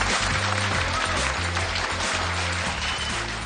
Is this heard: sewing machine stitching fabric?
no